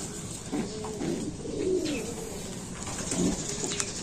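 Racing pigeons arriving at a loft give soft, throaty coos in several rolling phrases, close by and fairly quiet over a light background.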